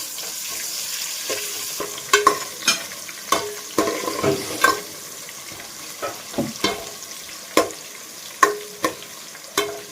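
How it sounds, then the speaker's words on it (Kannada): Onions frying in oil after mustard seeds have spluttered, a soft sizzle broken by repeated spatula scrapes and stirring clacks at an uneven rhythm, close and fairly loud. "ಸಾಸಿವೆ ಸಿಡಿದ್ಮೇಲೆ ಈರುಳ್ಳಿ ಹಾಕಿ ಫ್ರೈ ಮಾಡ್ಕೊಳ್ಳೋದು"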